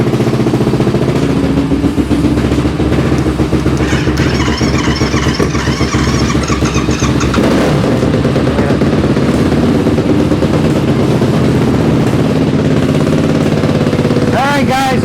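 A Yamaha YFZ450R ATV engine idles loudly in an enclosed space, a continuous rattling, throbbing roar that holds steady throughout while a voice talks over it.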